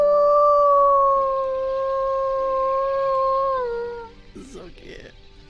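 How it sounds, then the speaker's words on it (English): A wolf in the video game Lost Ember lets out one long, sustained, tonal howl that holds steady for about four seconds and then falls away, loud and clear with no talk over it. "I've got to howl to call my companion."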